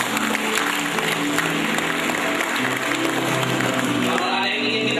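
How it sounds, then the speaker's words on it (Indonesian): Audience applause at an Indonesian business motivation seminar, a steady, moderately loud patter of clapping from a crowd filling the room for about five seconds. "Baik, kita berikan tepuk tangan untuk kita semua."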